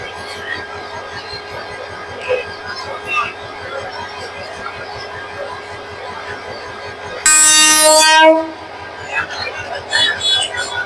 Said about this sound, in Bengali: ট্রেনের নিয়মই সিগন্যাল দিয়ে ট্রেন ছাড়া, সিগন্যাল দিয়ে সাথে সাথে টান